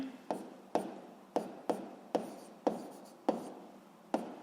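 Handwriting on paper while working a physics problem, a series of about nine short scratchy pen strokes, each starting sharply and trailing off, close up and alone, no talking.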